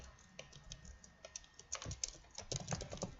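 Close keyboard typing while C# code is written, a quick patter of light clicks building into denser bursts toward the end, fairly quiet, with no voices.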